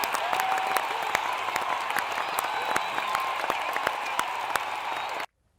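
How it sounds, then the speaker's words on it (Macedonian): An audience applauding at a political address, dense steady clapping from a crowd that carries on evenly and then cuts off abruptly. "Аплауз."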